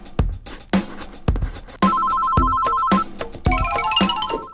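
Toy telephone ringing in a children's pretend play game, repeated electronic ring bursts with short gaps, loud and close, with no talk over them.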